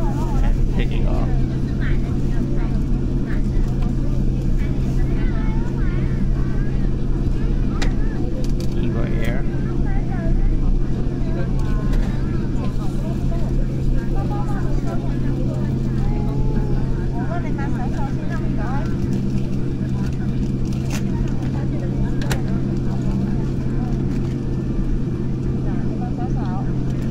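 Airliner cabin during taxi and takeoff from Taiwan Taoyuan International Airport, a steady loud engine drone with rising roar, while people talk and children's voices come and go throughout.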